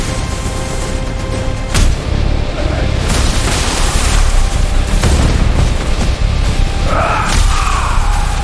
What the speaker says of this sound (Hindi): जैसे ही डील हुई, उसने गोली चला दी।